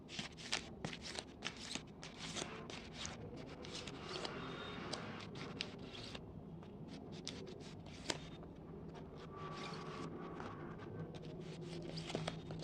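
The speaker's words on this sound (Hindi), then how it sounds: "आपके लिए कार्ड्स निकालती हूँ।" Tarot cards being drawn and handled for a reading: a dense run of quick papery flicks, slides and taps, close and soft, continuing steadily with brief pauses and no talking.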